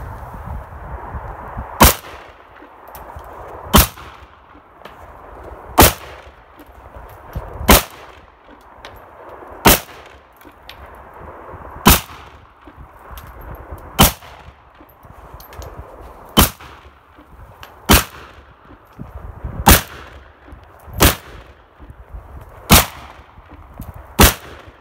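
Twelve loud, sharp rifle shots from a large-caliber Serbian rifle, spaced about two seconds apart outdoors, each crack followed by a brief echo and quiet rustling between.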